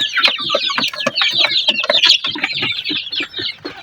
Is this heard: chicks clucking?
yes